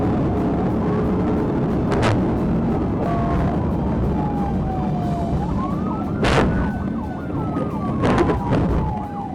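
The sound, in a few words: police car siren during high-speed chase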